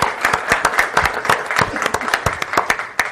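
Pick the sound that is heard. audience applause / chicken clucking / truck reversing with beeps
audience applause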